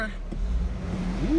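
A fresh 2004 Cadillac Escalade 6.0L LQ9 V8 revs up at operating temperature, a steady low engine drone that climbs to a rising whine near the end, with a voice speaking over it.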